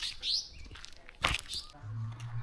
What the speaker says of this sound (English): some more weaver birds here